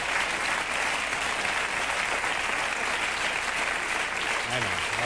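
A television studio audience claps on cue from an applause sign, a dense, continuous wash of clapping that holds steady the whole time.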